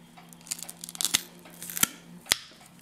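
Short crisp snipping and tearing bursts as a serrated blade squeezed against its handle cuts through a short rope, a few sharp cuts close up with faint crinkling between.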